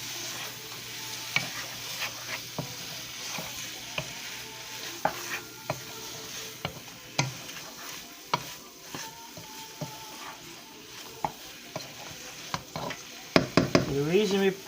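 Vegetarian soya chunks sizzle steadily in a pan on a home stove while a spoon stirs and scrapes them, with scattered knocks and clinks that grow busier toward the end.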